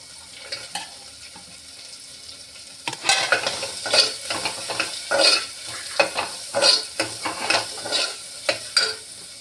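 Onions and tomato sizzle softly in hot tempering in a pan, with a spoon stirring and scraping in uneven bursts after a quiet start.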